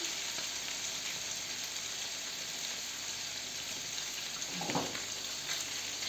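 Meat frying for goulash, giving a steady, dense sizzle that is continuous and moderately loud, with a short clatter near the end.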